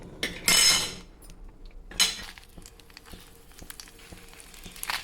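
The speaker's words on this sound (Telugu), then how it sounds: "వేయించుకోవాలండి వేస్తా ఉండాలి ఎందుకంటే పైన పొట్టు వచ్చేస్తుందండి" Jamun seeds roasting in a pan, with a couple of bright metallic scrapes and clinks from stirring early on, then a quieter, faint crackle and scattered light taps near the end.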